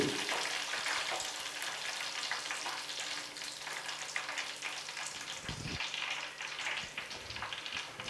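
A whole chicken coated in green masala fries in a pan, a close, loud, unbroken crackling sizzle with dense popping throughout and a brief stir-like thump midway, with no talking.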